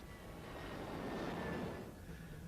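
A military jet engine, likely a Sea Harrier flying from an aircraft carrier, roars steadily, swelling to a peak in the middle and easing off slightly toward the end.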